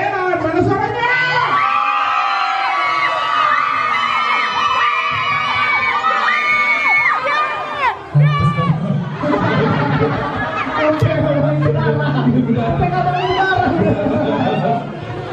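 A large concert crowd of nearly six thousand people shouts and cheers from in front of the stage, a dense, loud roar of voices that swells and fades throughout, with amplified tones ringing above it.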